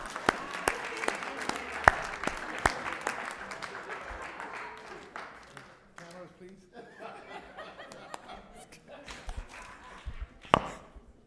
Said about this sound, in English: Please help me give him a round of applause.